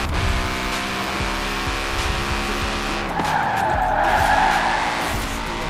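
Ford F-150 pickup drifting in Forza, a racing video game, with continuous loud tire squeal and skidding over a revving engine, a sustained screech building near the end.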